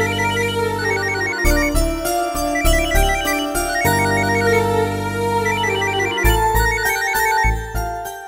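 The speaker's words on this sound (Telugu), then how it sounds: "రింగ్ అవుతుంది కానీ రెస్పాన్స్ లేదు" A mobile phone rings unanswered with a melodic electronic ringtone tune, loud and steady for the whole stretch, the pattern repeating without any voices.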